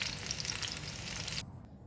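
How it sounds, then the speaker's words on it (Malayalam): Marinated chicken coated with tomato paste, chilli powder, salt and lemon juice fries in hot oil in a pan, a steady close hiss of sizzling that cuts off abruptly near the end. "ചിക്കൻ അങ്ങനെ വറക്കാനിട്ട് കൊടുത്തിട്ടുണ്ട്."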